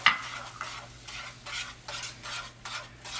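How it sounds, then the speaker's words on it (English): A spoon stirs vanilla into a bread pudding mixture for smoked bananas foster bread pudding, giving soft rhythmic swishing strokes about every half second, close and quiet, with no voices. "Stirring it in."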